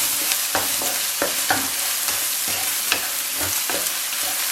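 Onion and beaten egg with scallions stir-fried in a wok over high heat for egg fried rice: steady loud sizzling with repeated sharp scraping strokes of a spatula, about one every half second.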